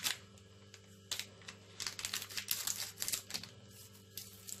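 Scissors snip open a crinkly plastic packet of Oreo biscuits in a home kitchen, a series of close, crisp cuts and rustles over a faint background hum, with no talk.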